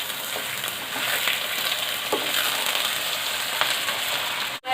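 A steady broadband sizzle of 1.5 kg of chicken going into onions frying for Hyderabadi chicken biryani, with a few soft clatters along the way and a sharp drop at the end, and no talking.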